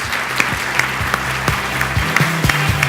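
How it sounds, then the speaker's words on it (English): An audience applauds a panel at a summit, steady continuous clapping with a low hum running beneath and a few sharper claps standing out. "A big round of applause, please, for these guys"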